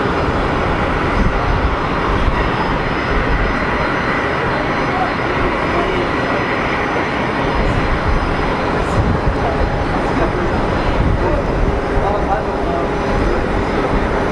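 A small business jet, a Citation variant or a Phenom, on final approach at Geneva Airport gives a loud, steady, broadband roar that holds evenly for the whole stretch, with no pauses.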